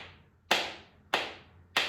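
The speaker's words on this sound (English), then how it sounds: "where we're going to tap it on our hand" Three sharp clacks of musical spoons tapped against the hand, evenly spaced and close, each bright strike decaying quickly, with no voice over them.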